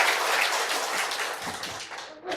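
Congregation applause in a Baptist church service after a middle-school student's prayer, a brief burst of clapping that fades toward the end.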